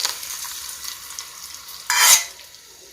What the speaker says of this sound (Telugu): ఈ పసుపు మీద పోపుని వేసేస్తే కలర్గా ఉంటుంది